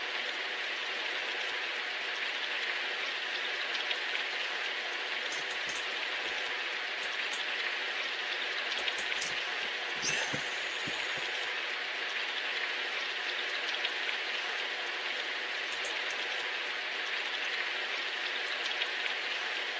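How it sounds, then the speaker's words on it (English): Steady rain falling on city streets in the video game Symphonic Rain, a continuous soft hiss that holds evenly throughout, with a few faint brief ticks near the middle and no voices. "I jogged through the streets in the rain"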